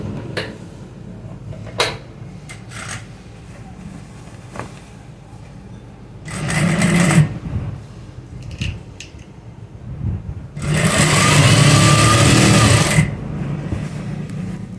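An electric sewing machine runs in bursts, stitching elastic into a trouser waistband: two main whirring runs, a shorter one midway and a longer one near the end, with soft handling clicks and rustles between them.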